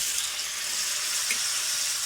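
A ladle of starchy pasta cooking water hits the hot pan for pasta alla gricia, giving a brief, steady watery hiss and splash heard close up with nothing else over it.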